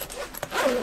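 A zipper on the gig bag of an Enya tenor ukulele is pulled open in one quick, close, continuous rasp lasting under a second.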